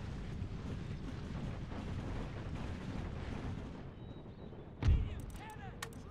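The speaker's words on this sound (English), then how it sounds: "Napoleon cannons." A single heavy Napoleon cannon boom in the video game Empire: Total War, Brothers vs. Brothers mod, lands near the end, cutting through a steady roar of wind-like rumble and distant battle noise.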